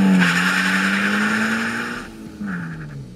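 A Toyota GR86 sprints from a standstill, tyres chirping as the engine revs climb steadily, then a brief drop at the shift before it pulls again, close and loud with no talk.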